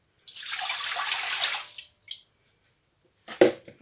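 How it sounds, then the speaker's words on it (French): Broth poured from a container into a pot of bouillabaisse, a smooth rushing liquid stream lasting about two seconds, then silence and a short clunk of the vessel, close and without talk. "On met le reste du bouillon."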